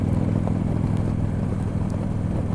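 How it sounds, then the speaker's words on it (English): Victory Judge motorcycle being ridden, steady rumbling engine under heavy continuous wind buffeting, loud and close throughout. "I'm sorry if you guys are getting bombarded with wind noise."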